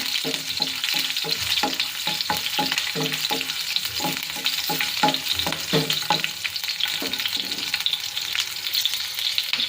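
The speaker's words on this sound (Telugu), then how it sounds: "పచ్చిమిర్చి వేసుకొని బాగా కలపాలి" Green chillies and whole garam masala stirred in a kadai for veg pulao, with a steady close sizzle of frying and repeated rhythmic scrapes and clanks of the spoon against the pan, no voices.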